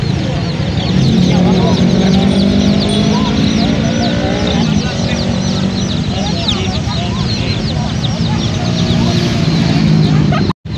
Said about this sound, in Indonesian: Cila punya anak ayam.